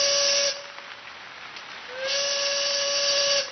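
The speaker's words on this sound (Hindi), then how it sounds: "ट्रेन की सीटी बजती है" A train whistle blows at a rainy station in two long, loud, steady blasts separated by a short gap, piercing and close with a harmonic, slightly hissing tone.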